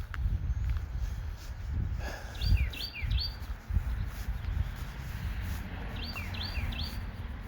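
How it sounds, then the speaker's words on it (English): Birds chirp outdoors at night in two short bursts of quick, high twittering calls, moderately distant, over a low rumbling background with faint footstep-like thuds. "Some birds are out tonight."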